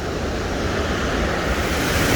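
A steady, dense roar of falling water at the bottom of a waterfall, loud and unbroken, with no voices over it.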